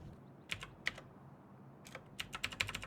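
Clicky keystrokes on a computer keyboard during a Civilization 6 session, a short burst of taps then a quicker cluster a second later, close and fairly quiet over a soft background hum.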